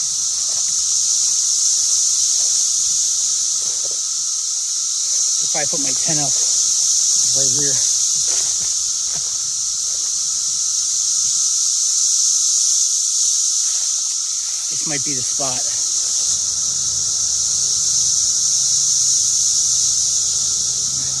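Loud cicadas at a trail campsite, a dense unbroken high buzzing drone filling the whole scene while someone speaks briefly underneath.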